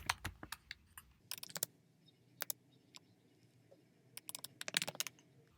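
Typing on a computer keyboard, scattered bursts of close, crisp keystrokes separated by brief pauses, fairly quiet with no talking.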